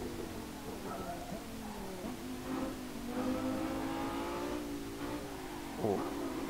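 A V10 supercar engine in the Assetto Corsa racing game revs and shifts pitch on a mountain touge road, rising and falling continuously at moderate loudness, with a few louder surges near the end.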